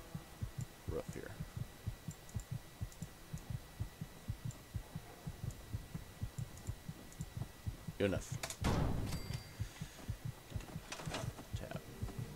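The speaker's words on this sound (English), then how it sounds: "My heart beating is really starting to bother me." A heartbeat in the video game Fallout 4 thumps in a steady, low, regular rhythm throughout, with a burst of louder game noise partway and a brief spoken comment.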